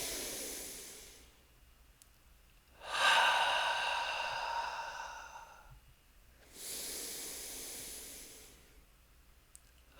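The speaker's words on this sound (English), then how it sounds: "In through the nose." Two slow, deliberate breaths drawn in through the nose during a guided meditation, each a soft airy hiss swelling then fading, separated by quiet pauses, close and gentle.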